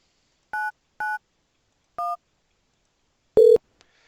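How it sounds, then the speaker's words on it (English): Telephone keypad dialing extension 991, three short evenly pitched DTMF beeps followed by a louder, longer tone, clear and close against silence. "I can just dial 991."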